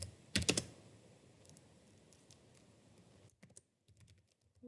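Keys on a computer keyboard clatter up close in a quick dense burst, then scattered single clicks follow after a pause, with a quiet room around them and no voices.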